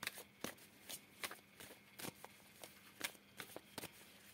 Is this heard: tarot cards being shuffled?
yes